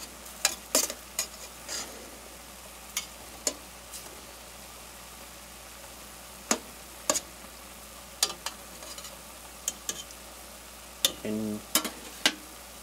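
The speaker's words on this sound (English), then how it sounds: "let that simmer for a second." Chopped taco-seasoned chicken simmers and sizzles in a pan under a low, steady hiss, broken by sharp scattered clicks and scrapes of a utensil stirring against the pan. A single word is spoken.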